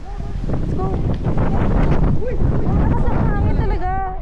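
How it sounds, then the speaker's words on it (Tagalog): Strong wind buffets the microphone in loud gusts on the Masungi Georeserve Discovery Trail while people talk and exclaim underneath. "Lakas ng hangin talaga."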